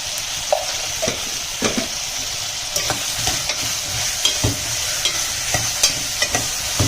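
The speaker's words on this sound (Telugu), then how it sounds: "ఇవి మంచిగా ఫ్రై కావాలి. ఫస్ట్ ఒక 10 to 15 minutes ఫ్రై చేయాలి." Salted vegetables frying in a pan for sambar, giving a loud steady sizzle close by, with light, irregular stirring taps throughout.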